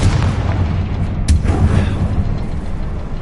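Confringo fire spell explosion in the Hogwarts Legacy video game, a single sharp booming blast with a burst of crackle against a low rumbling game background.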